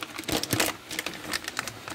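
A plastic trim cover is pried off the door of an old Hyundai Accent during a window repair, giving close, irregular crackling, clicking and crinkling bursts with no talking.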